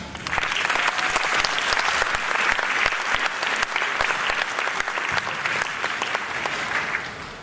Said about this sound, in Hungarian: Lelkesítsék őket tapsal!